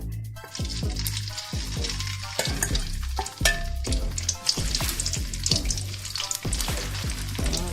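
Fish balls fry in hot oil with a loud, crackling sizzle, broken by repeated scraping and stirring knocks from a utensil at close range, with no talking.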